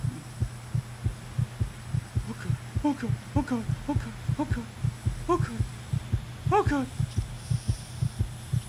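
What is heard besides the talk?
heartbeat sound effect in Roblox video game Survive The Night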